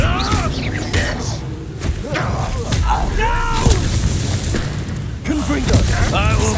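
Confringo blasting spells explode during a Hogwarts Legacy battle: dense, rumbling booms layered over continuous game noise, with character voices speaking throughout the fight.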